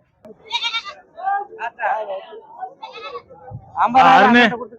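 Goats bleat at a Saturday goat market in Ettayapuram, a series of close, wavering bleats in short bursts ending with a loud, drawn-out cry, with no other noise between calls.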